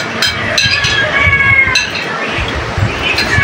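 A cat meows repeatedly and close by in a home kitchen, with faint clinks of dishes around it and some quiet voices.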